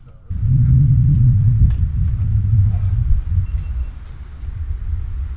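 An electric go-kart with no motor fitted rolls along the ground, giving a steady low rumble with faint rattling that swells, holds for several seconds, then eases slightly.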